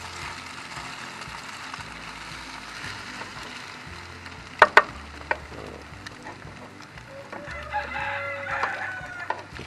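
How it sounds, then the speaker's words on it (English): Chickens cluck steadily while a rooster crows near the end, with a couple of sharp nearby knocks in the middle. Moderately loud farmyard sound, no talking. "The chickens are celebrating."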